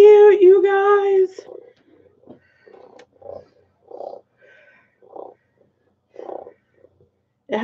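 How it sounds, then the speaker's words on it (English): A brief meow, then a soft purr in slow, evenly spaced pulses, close and fairly quiet, with short gaps between each rumble. "You hear it purring."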